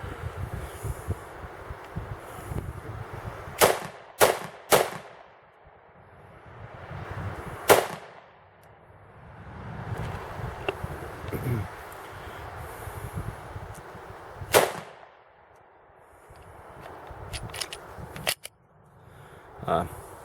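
Glock 33 pistol firing 125 grain FMJ .357 SIG rounds outdoors, with loud sharp cracks in a quick group of three, then single and paired shots spread apart, and someone talking between them.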